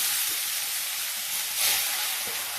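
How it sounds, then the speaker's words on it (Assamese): Fish pieces fried in hot oil for a green leafy fish curry give a loud, steady hiss and sizzle, swelling briefly partway through, with no talking. "ইয়াতে মই মাছখিনি পিচ পিচকৈ পেলাই দিম।"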